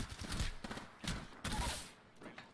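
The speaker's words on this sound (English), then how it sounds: "When a Hemlock gets to shooting like that, it can be scary" Quick bursts from a Hemlock burst rifle in Apex Legends crackle in clustered three-round volleys, fairly faint and repeated several times over a short span.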